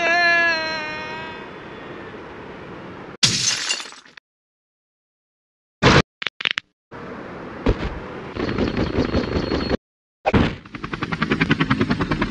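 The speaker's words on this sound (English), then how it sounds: "Return fire!" Cartoonish video game combat from the Henry Stickmin series aboard an airship, with bursts of rapid gunfire, sharp cracks and shattering, broken by sudden silences, loud and close with no talking.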